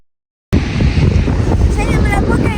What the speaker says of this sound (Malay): Angin yang sangat kuat dengan percikan air terjun yang sangat kuat dilaporkan dekat sini